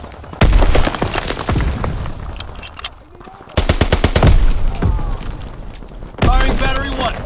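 A Call of Duty: WWII Domination match on the Shipment 1944 map plays loud, close bursts of rapid machine-gun fire and heavy booms in waves. Game voice chatter runs underneath.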